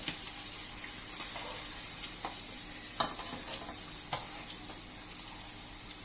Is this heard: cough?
no